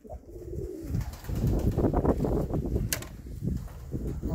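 Tumbler pigeons in a loft give low, continuous cooing close by, with soft rustling and brief wing flaps mixed in and a sharp click near the end.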